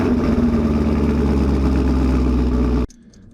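A Chevrolet Camaro Z28 with a big aggressive cam idles loudly up close, its lopey, choppy rumble steady and alone for nearly three seconds before the engine cuts off abruptly into near silence.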